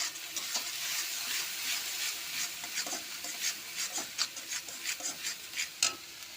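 Spices and onions frying in a pan crackle under a soft sizzle while a spatula scrapes and stirs in repeated short strokes, the rhythm quickening toward the end; no one speaks.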